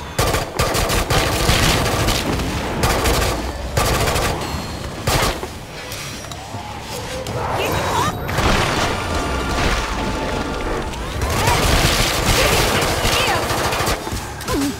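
Sustained automatic gunfire in the video game Killing Floor 2, loud rattling bursts with booms and mechanical clatter, dipping briefly before resuming, with game voices heard in between.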